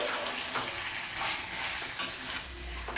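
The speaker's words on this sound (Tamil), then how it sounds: "கலந்து விட்டுக்கோங்க." Chicken gravy is stirred in a hot pan, with a continuous bright sizzle and frying hiss under the scrape of a spoon, close and steady, with a few clacks of the utensil against the pan.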